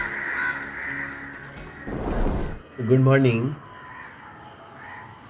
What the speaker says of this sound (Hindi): तरह तरह की पक्षियां चहचहा रही थी।